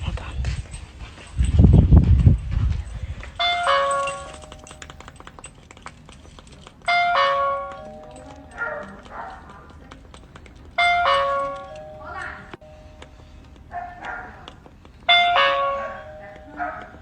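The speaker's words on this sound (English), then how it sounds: "I can hear the doorbell ringing." A doorbell rings four times in repeated chime bursts at a home where a parent arrives to pick up a son, each ring clear and moderately loud, with a short thump and quiet room noise between rings.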